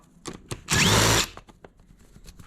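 A power tool whirs in one short burst while removing 6mm airbox bolts on a KTM 990 Adventure motorcycle, close and loud, with clicks and handling noises of the bolts before and after.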